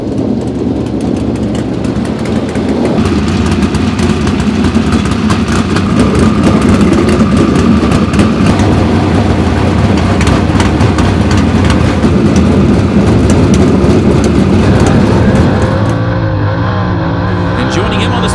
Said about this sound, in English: we'll be getting suited up and roll right into engine heat,